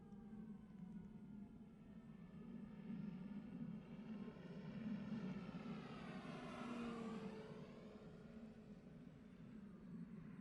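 Large T-28 Trojan RC plane flying overhead, its propeller engine whine rising and falling in pitch as it approaches, passes closest around the middle and recedes, with a steady low background hum.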